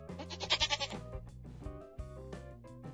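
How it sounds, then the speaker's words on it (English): A goat bleating close by, a wavering, quavering cry with a pulsing rhythm, followed by several shorter bleats. "goat"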